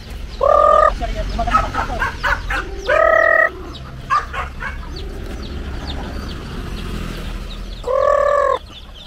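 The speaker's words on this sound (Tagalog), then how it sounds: "Guys, pagkain tayo ng manok" Native chickens cluck and squawk nearby on a farm in several loud bursts, with softer chatter and scratching between the calls.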